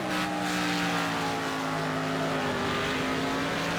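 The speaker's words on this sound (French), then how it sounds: "En tout cas le bruit de moteur est magnifique." An American V8 car engine in a racing video game drones loudly and continuously at high revs, its steady tonal roar holding nearly constant pitch throughout.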